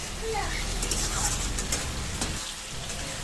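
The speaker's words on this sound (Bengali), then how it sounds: "অল্প মাছ ভাজা বাকি আছে" Folui fish frying in a pan at home, a close, steady crackling sizzle like light rain, with someone talking over it.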